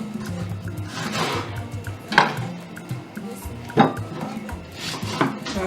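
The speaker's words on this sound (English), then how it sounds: "So I'm going to slice my onions now" A knife slices onions for a carrot stew on a cutting board, giving irregular, close knocks and soft cuts with a clatter of kitchenware around them.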